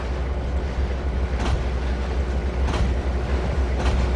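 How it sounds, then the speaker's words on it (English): A BNSF freight train in the Trainz 2022 rail simulator rumbles steadily along the track, a loud continuous low roar with faint periodic clatter and no voices. "there's that BNSF train right there"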